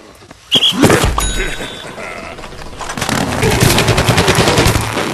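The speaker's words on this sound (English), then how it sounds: "He's got a big, powerful zombie cannon as his primary weapon." The All-Star's zombie cannon fires in Plants vs Zombies Garden Warfare, a sharp loud blast followed by a sustained stream of rapid, machine-gun-like shots with game effects, close and dominant.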